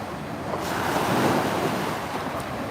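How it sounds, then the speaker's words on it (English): Ocean waves surge and crash onto the shore, a broad roaring wash that swells and fades, with wind buffeting the microphone. "These waves are really crashing in now."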